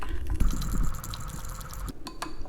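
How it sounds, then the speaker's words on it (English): A marinade of fish sauce, salt, pepper and warm water is stirred in a small dish, giving close liquid swishing with light clinks of a utensil against the container. "Now mix this around."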